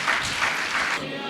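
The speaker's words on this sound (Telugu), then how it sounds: "నా మాట అర్థమైన వాళ్ళు చప్పట్లు కొట్టండి." An audience claps through a sermon at a Christian prophetic ministry gathering: a dense, steady wash of applause from many hands that holds for over a second, then thins out slightly toward the end.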